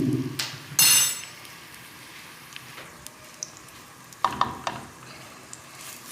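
Onion and a spoonful of tomato paste are added to a heated pan, with a loud burst of sizzling, then quieter frying crackle and a few sharp knocks and clinks of utensils against the pan.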